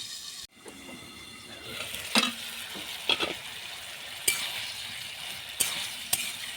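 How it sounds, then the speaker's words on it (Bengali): Vegetable chorchori frying in oil in a pan gives a low steady sizzle, punctuated by a few sharp scrapes and knocks of a spatula stirring, close by with no talking. "তেলের মধ্যে নেড়ে আর কি চচ্চড়িটা করলে একটু ভালো লাগে"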